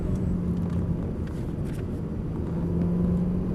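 A car engine rumbles steadily on a closed driving course as the driver accelerates, a continuous low drone at moderate level with no talk.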